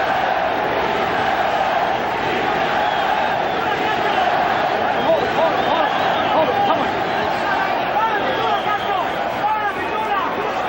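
A boxing arena crowd roars and chants continuously during the Julio Cesar Chavez vs Kostya Tszyu fight, a thick wall of cheering with a commentator talking over it.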